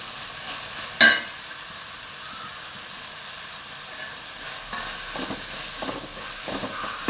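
Tomatoes sautéing in a pan for homemade rasam, a soft steady sizzle and hiss with a sharp clatter near the start and light stirring scrapes toward the end, no talking.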